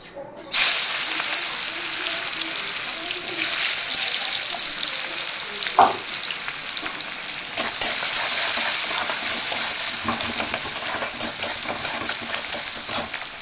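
Chopped onions hit hot oil with a sudden loud sizzle that holds as a strong, even hiss for the rest of the clip, close up, with occasional stirring scrapes and no talking.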